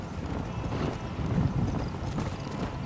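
Horse hooves clip-clopping steadily in the Red Dead Redemption video game, a continuous rhythmic trot at close range with a soft wind-like bed behind it and no talking.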